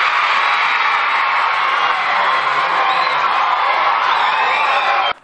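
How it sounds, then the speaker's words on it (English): An elementary school crowd cheers and shouts loudly and steadily at a pep rally, a dense wall of children's whoops and screams that cuts off abruptly at the end. "It all made the crowd go wild."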